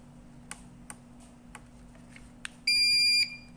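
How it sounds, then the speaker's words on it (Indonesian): A swing gate motor controller pairing with a wireless remote makes several soft clicks, then one sharp, steady electronic beep lasting about half a second in a quiet room. "Tekan pada remote-nya dan akan bunyi beep seperti tersebut."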